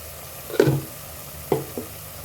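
Spice masala with coriander powder and garam masala frying in a pan, quiet background sizzle broken by two or three short scraping stirs of a spoon.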